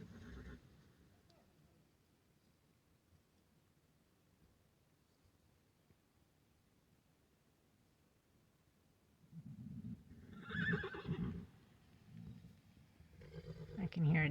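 A horse on a working farm with seven horses neighs from a moderate distance, with two or three loud whinnying bursts late in the clip after a stretch of quiet background.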